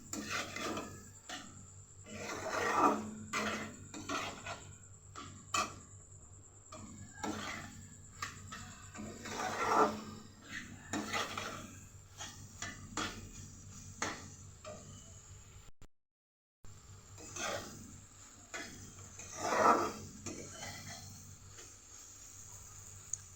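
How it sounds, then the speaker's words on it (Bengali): Soybean chunks are sautéed with spices in a pan, with scattered scraping stir strokes and clinks of a spatula against the pan, fairly quiet, with a brief gap of silence partway through. "আর মশলার সাথে সয়াবিনটাকে ভালো করে কষিয়ে নেব।"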